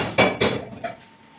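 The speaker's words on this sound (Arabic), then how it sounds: "هحط حله برضو على البوتاجاز" Metal pot set down on a gas stove in a home kitchen while preparing baked macaroni, giving two clanking knocks close together, then a lighter third clink, with no talk.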